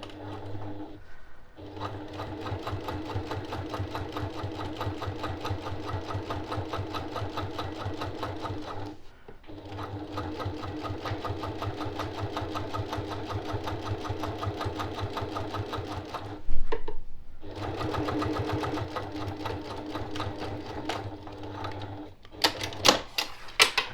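Sewing machine stitching fabric for a zipper pouch, running in three long bursts of fast, even mechanical chatter with brief pauses between them, close and clear, ending with a few clicks.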